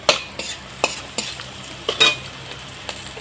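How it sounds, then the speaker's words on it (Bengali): Garlic and green chilli frying in hot oil on a home stove, with a soft steady sizzle under a few sharp stirring scrapes of a spatula against the pan, close and moderately quiet. "রসুন আর লঙ্কা ভেজে নিচ্ছি"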